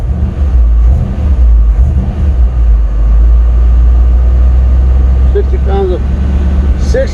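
A 1965 Chevrolet C10 engine running after sitting about a year on old fuel, a loud steady low rumble close by that fills the whole clip, with people talking over it.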